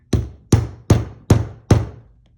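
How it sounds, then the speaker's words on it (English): Five evenly spaced, loud, sharp blows of a very heavy hammer striking a small flower setter held on an upside-down steel block, each ringing briefly before the next. "And my steel block upside down, my little flower setter, and a very heavy hammer."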